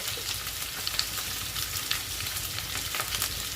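Potatoes fry in a pan with a continuous crackling sizzle, close and fairly soft, while a utensil stirs them in light, occasional scrapes and taps.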